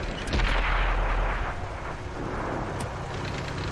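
A heavy artillery gun fires in World of Tanks, an M55 self-propelled artillery piece, giving one loud booming blast that rolls off into a long fading rumble with no talk.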